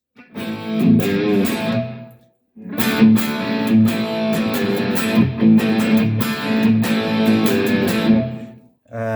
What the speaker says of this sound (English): Just straightforward boost at the end there